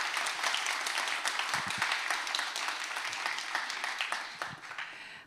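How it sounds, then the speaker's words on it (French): An audience applauds after a journalist is introduced for a talk, a dense, steady wash of clapping that holds strongly and thins out slightly near the end. "On les applaudit bien fort, s'il vous plaît."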